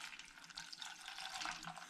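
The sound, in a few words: spring water poured onto tea bags and hops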